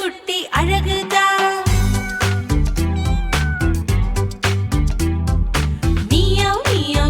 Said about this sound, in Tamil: மியாவ் மியாவ் கேக்குது